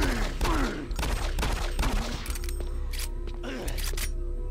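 Pistol shots in Doom 3 BFG, several sharp reports in quick succession with mechanical clicks and monster growls in between, close and loud, followed by a steady low game hum.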